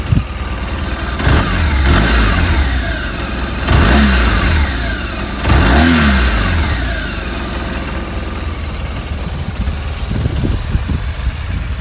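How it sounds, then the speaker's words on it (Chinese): A BMW motorcycle with a horizontally opposed twin-cylinder engine revs repeatedly, with several loud rising-and-falling throttle blips over a steady idle, close and continuous with no talking. "请大家听一下发动机声浪。"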